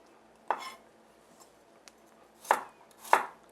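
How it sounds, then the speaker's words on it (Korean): A kitchen knife slices garlic cloves on a cutting board while oyster salad is being prepared: four sharp, close chops, spaced unevenly in a quiet room. "마늘을 편썰기를 해줄 거예요"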